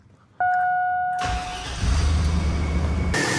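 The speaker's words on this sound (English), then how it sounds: "So now I'll start the engine up and we can do that test." A 2000 Chevy Silverado pickup engine, with a random misfire and a faulty fuel pressure regulator, starts with a short cranking chime and whine, then catches and settles into a loud, steady idle close by.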